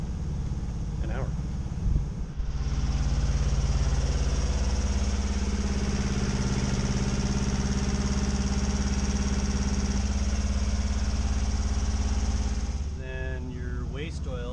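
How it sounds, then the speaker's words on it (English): Idling inboard boat engine running with flushing oil concentrate through its parts, a steady low drone holding for about ten seconds before a voice cuts in near the end. "Let the flushing oil concentrate course through all the parts of the engine and pull all the sludge and goo off the walls"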